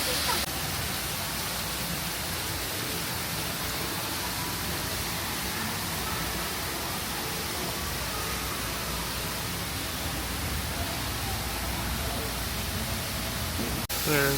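An indoor waterfall inside a Bass Pro Shop store roars with a steady, dense, loud rush of falling water that fills the whole stretch without letup.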